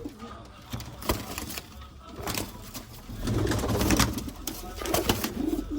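A pair of pigeons coo close by, low soft coos repeating between rustling and handling noises, with a person talking over parts of it.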